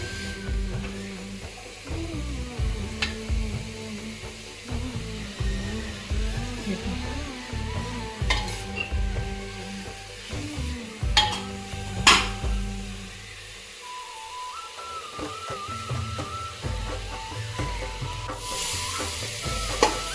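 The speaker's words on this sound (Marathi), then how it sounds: "पहिले ह्याला तुपामध्ये फ्राय करून घेऊ आपण चांगलं" Grated carrots frying in ghee sizzle steadily while a spoon scrapes and stirs them in the pan, with repeated rhythmic scraping strokes close by and a few louder clanks.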